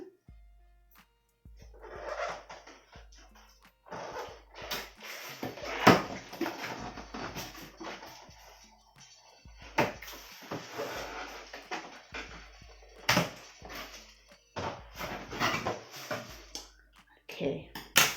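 Cardboard box of a Kmart 10-cup rice cooker being opened and unpacked, with scattered rustles, taps and knocks of packaging and plastic parts, intermittent and close, with a voice talking at moments.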